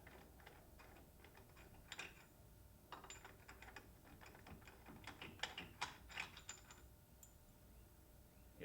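A nut being removed during clutch work on a BMW K1200GT motorcycle with a wet clutch, faint clicking and ratcheting metal taps in irregular bursts, close by in a quiet space with no talk.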